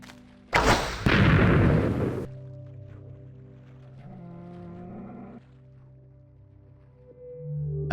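A cannonball shot in the Minecraft Better Than Adventure modpack, a loud broadband boom lasting about two seconds, then a quieter rumbling tail with a faint mechanical rattle.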